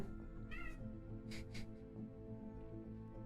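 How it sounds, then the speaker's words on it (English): A cat's meow heard once over the steady sound of a StarCraft II tournament match broadcast, with short harmonic cries standing out near the start and middle against continuous game audio. "Meow."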